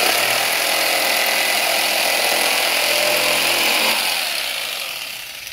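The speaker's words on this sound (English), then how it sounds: "Properly cut, a decent sized wood. And the jigsaw is still working, revived to life." An electric jigsaw with freshly replaced carbon brushes saws through a piece of wood with a loud, close, steady buzzing rasp that tapers off near the end, with no speech.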